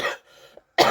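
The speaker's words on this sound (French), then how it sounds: "ça me fait tousser" A person coughs twice, two short harsh bursts separated by a brief pause, close and fairly loud.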